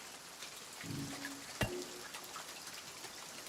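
Rain falling outdoors in the Silent Hill 2 Remake video game, a faint, steady patter with a brief low tone and a single sharp knock partway through.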